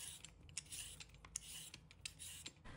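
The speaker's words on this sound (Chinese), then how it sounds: "先把萝卜皮削掉不要" A peeler scrapes the thick skin off a white radish in quiet, rasping strokes, each short stroke close and soft, repeating irregularly with no talking.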